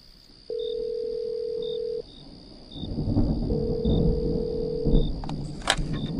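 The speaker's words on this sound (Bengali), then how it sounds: "ফোনটা ধর, ফোনটা ধর।" A phone line rings while waiting for an answer, with two long, even ringback tones separated by a pause. Low rumbling background noise builds beneath the second tone.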